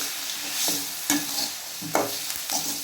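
A spoon scrapes and stirs manathakkali greens in a frying pan, with a soft steady sizzle underneath and several distinct scraping strokes.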